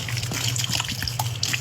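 Blue Ocean scented Pine Glow cleaner poured into laundry, a continuous gushing, splashing liquid pour that stays close and fairly loud throughout.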